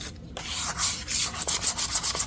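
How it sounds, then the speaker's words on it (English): Reclaimed wood cutting boards get a quick sanding, a close, steady rasping rub with short rhythmic strokes and brief pauses, alone without talk. "just a quick sanding on them"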